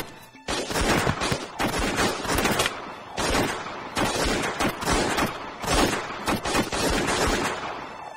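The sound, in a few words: gunfire in a film scene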